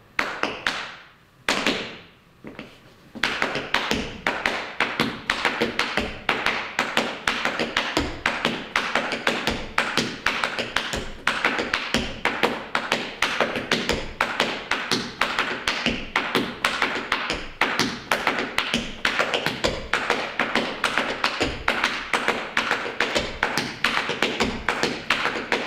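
Tap shoes performing a riffle time step, crisp metallic taps and heel thuds repeating in a fast, steady rhythmic pattern for over twenty seconds after a brief pause near the start, loud and close with no talking.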